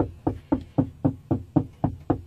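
Knocking on a car window at night, about nine evenly spaced hollow raps in a steady rhythm, close and fairly loud, with no voices.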